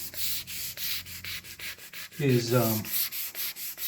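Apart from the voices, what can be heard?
sanding grain filler on guitar body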